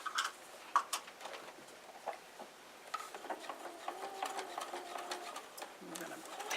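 A sewing machine stitches fabric that is held with pins, giving a close, quick rattling run of needle strokes that speeds up and slows down, with a voice talking over parts of it.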